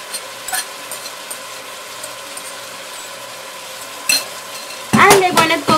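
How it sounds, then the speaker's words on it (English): Chopped onions, celery and carrots tip into a hot pot for chicken pot pie, setting off a short, loud burst of sizzling and stirring at the very end after a long, quiet stretch. "we're going to add all our veggies, chopped onions, celery and carrots"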